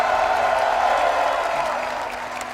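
A large crowd at a Montreal esports grand final cheers and applauds in a dense, steady roar that fills the space, easing slightly toward the end.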